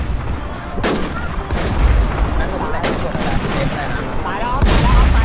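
Heavy gunfire in the video game Warz, dense rapid bursts of shots and booms layered over loud continuous noise, fairly close and relentless throughout.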